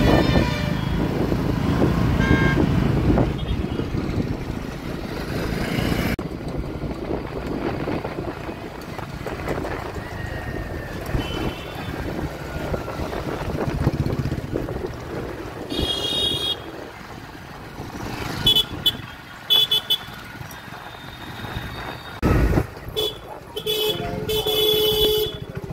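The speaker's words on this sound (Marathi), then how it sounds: "आपल्या राहुल भाऊंनी बाईक घेतलेली आहे, राहुल भाऊंच्या बाईक वरती चला मित्रांनो।" A motorbike ride through road traffic, with a continuous engine and wind rumble heard from the moving bike, several car horns tooting nearby, and traffic noise rising and falling for about twenty-five seconds.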